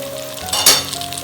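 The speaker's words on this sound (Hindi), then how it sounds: "5 मिनट के लिए हम इनको ऊपर से कवर करके छोड़ देंगे ताकि ये अच्छी से फ्राई हो जाए।" Potatoes frying in a pan for aloo palak, a short burst of sizzling and a lid or utensil clink rising and fading within a second, close, with no voices.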